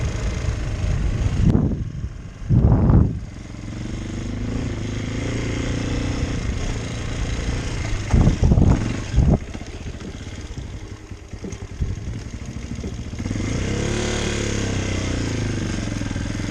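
A CSC TT250 single-cylinder motorcycle engine drones steadily while riding, with a few louder revving surges and bursts of wind buffeting, and no speech over it.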